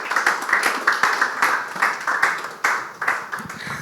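Audience applause at a Creative Tribe cultural event, rhythmic and close, with clapping swelling in repeated pulses that rise and decay across the whole stretch.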